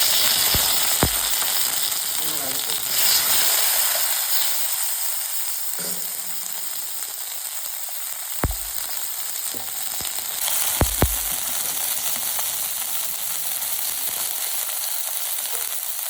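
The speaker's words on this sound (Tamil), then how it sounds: "இப்போ இந்த தக்காளி பச்சை மிளகாய் ரெண்டையும் போட்டு" Tomatoes and green chillies fry in hot oil for bisi bele bath, giving a steady close sizzle broken by a few sharp clinks from a utensil against the pan, with no talking.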